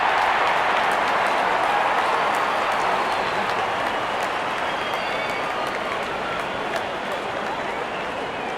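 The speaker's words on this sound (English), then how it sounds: "Out come the openers, cheered by a good crowd in." A good crowd at Faisalabad Stadium applauds and cheers as the openers walk out for a Pakistan versus Australia ODI, a steady dense wash of clapping that holds for several seconds with no gaps.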